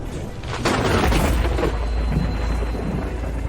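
A thunder clap sound effect: a sudden sharp crack followed by a deep rolling rumble that lingers, with a steady hiss of rain underneath.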